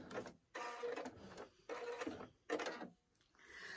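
A sewing machine runs a locking stitch in short bursts, three or four quick whirring runs separated by brief pauses, close and fairly quiet.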